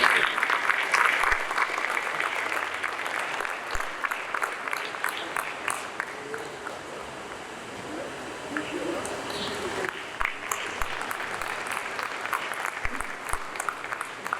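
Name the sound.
audience applause at panel discussion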